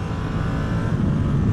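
A 2024 Ducati Streetfighter V2 V-twin engine roars steadily and loudly at high revs, a dense continuous drone with riding wind noise and no break.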